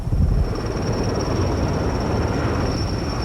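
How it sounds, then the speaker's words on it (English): A steady, broadband roar of rotor wash from an Air-Crane heavy-lift helicopter on a high construction job, with a constant whine above it, loud and unbroken throughout. "The helicopter creates a rotor wash, a vortex of downward air circling in the direction of the turning blades."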